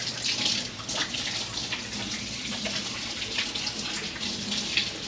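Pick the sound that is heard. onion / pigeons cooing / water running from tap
water running from tap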